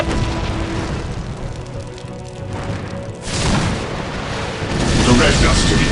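Whirlwind missile battery firing in the Dawn of War video game, a dense continuous roar of launches and booms that swells louder midway and again near the end, with a radio-style unit voice over it.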